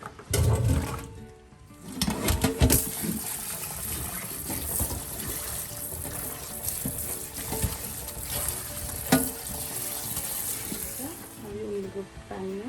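Water runs and splashes over salted, cut potatoes being rinsed in a bowl while preparing homemade French fries, a steady gushing wash with a few louder clatters and faint voices in the background.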